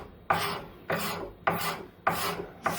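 A hand tool shaves hickory wood into a handle for a 3 lb sledgehammer, making five close, regular rasping strokes, each starting sharply and fading, with no talk.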